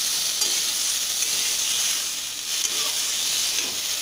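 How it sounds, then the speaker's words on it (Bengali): Boiled beetroot, carrot and beans stir-frying in a hot pan, a steady loud sizzle and hiss throughout with faint stirring scrapes, close up and continuous. "সিদ্ধ করা বা গাজর বিট আর বিনসগুলোকে দিয়ে দিই এবার ভালোভাবে কষাতে হবে"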